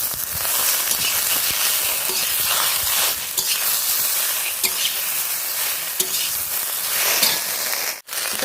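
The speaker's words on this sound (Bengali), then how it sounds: "লবণ দিয়ে দিয়েছি আর দিয়ে দিচ্ছি কিছুটা হলুদ দিয়ে ভিন্ডিটাকে ভালো করে একটু ভেজে নিচ্ছি" Okra sizzles steadily in hot oil with salt and turmeric, a dense continuous frying hiss with occasional stirring scrapes and clinks, close and fairly loud, with no talking.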